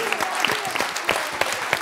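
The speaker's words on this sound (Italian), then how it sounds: "Facciamo un applauso lo stesso al semaforo blu." An audience at an Italian school quiz game gives a short round of applause, with brisk clapping and a few distinct sharp claps standing out, while voices carry on beneath.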